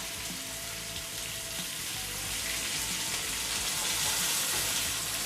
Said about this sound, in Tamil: அப்போ தான் மீன் 2 பக்கமும் நல்லா வறுபடும்.